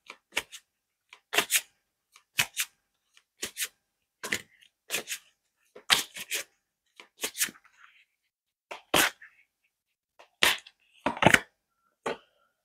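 Tarot cards are shuffled and drawn in a series of sharp, separate snaps and flicks with quiet gaps between them. The sounds are close and there is no talking.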